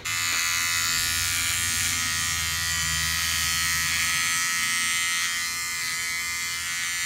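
Electric razor, a OneBlade-style trimmer, shaving close around the lip, giving a steady loud high-pitched buzz that hums on without a break for the whole stretch, with no voices over it.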